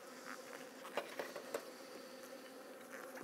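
Agitated honey bees buzz around an open hive as rain begins, a steady low drone with a few brief louder passes near the listener, no talking.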